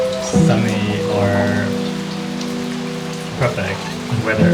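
Rain falling outdoors, a soft steady patter that runs throughout beneath louder sustained tonal sounds.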